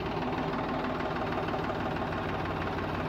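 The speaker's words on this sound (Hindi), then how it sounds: "देखिए ट्रैक्टर को थोड़ा थोड़ा बैक किया जा रहा" A Sonalika 735 DI tractor fully loaded idles as it is backed up slowly, giving a steady, dense diesel rumble with a faint knocking texture, continuous and close with no speech over it.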